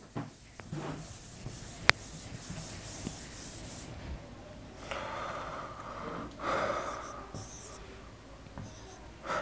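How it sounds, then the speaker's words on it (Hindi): Writing rubbed off a classroom board, with soft scrubbing swishes in several bursts, close by and fairly quiet, alongside a sharp tap and faint room noise. "मैं रब कर देता हूँ इसको यहाँ से"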